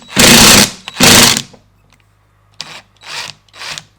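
Power tool loosening 6mm Allen bolts on the LSD differential housing of a BMW E36, two sustained whirring bursts followed by three shorter, quieter ones, close up with no talk.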